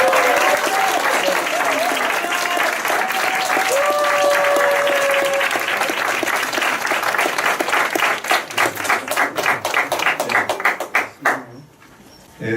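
An audience at a lecture bursts into loud, sustained applause to welcome a speaker. The clapping carries on steadily, then breaks into scattered separate claps and fades out, and a voice comes in at the very end.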